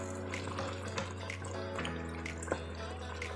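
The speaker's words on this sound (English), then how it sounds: "So I'm adding a little bit of water in now" Water pours from a tap and trickles into a pot of beef biryani being cooked, a soft splashing with a few drips, fairly quiet over a steady low kitchen hum.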